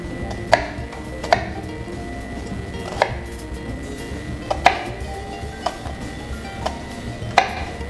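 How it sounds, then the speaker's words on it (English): A kitchen knife slices down through an onion on a cutting board, giving sharp, evenly spaced knocks about once a second over a quiet room, with no talking. "So you use the natural lines of the onions to cut down."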